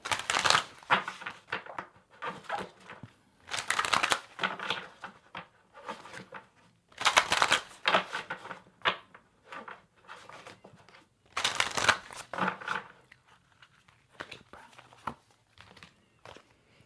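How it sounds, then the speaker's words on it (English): Cards from the Secret of the Ancestors Oracle deck are shuffled and drawn in several bursts of close, papery riffling and shuffling, separated by quiet pauses. "now let me pull a card from the Secret of the Ancestors Oracle"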